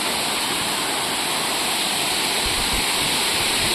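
A waterfall at a village dam in Konkan roars as a loud, continuous, close rush of falling water, alone without voices.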